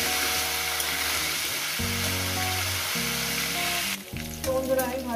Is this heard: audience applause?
no